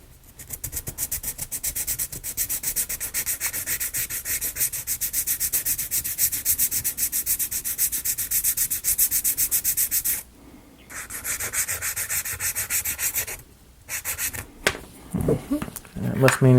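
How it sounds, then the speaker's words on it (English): Edge of an acrylic marble run piece being sanded by hand, rapid rhythmic back-and-forth rasping strokes close up, running in long bursts broken by brief pauses. "straight into sanding down our edge here"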